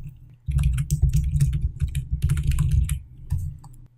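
Rapid clattering keystrokes on a computer keyboard while filling in a name, steady close typing in bursts for several seconds with no talk.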